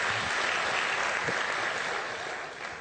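Audience clapping at a live seminar session, a dense, close burst of many hands applauding together that holds steady, then gradually thins and fades toward the end.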